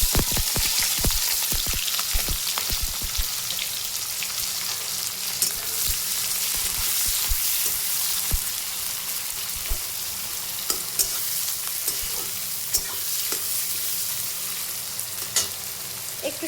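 Chopped onions and chillies fry loudly in hot oil tempered with nigella seeds, a constant crackling sizzle broken by sharp scattered pops and stirring clicks, with no talking.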